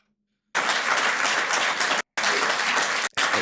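Dense applause from many hands fills a parliament chamber, starting abruptly and holding steady and loud, with two brief cuts where it drops out before resuming.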